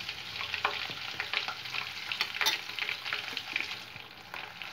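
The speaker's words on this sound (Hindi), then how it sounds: "प्याज टमाटर काजू बादाम का पेस्ट डाल लो।" Onion, tomato, cashew and almond paste sizzling and frying in a pan for chilli paneer, a steady close hiss with light stirring scrapes.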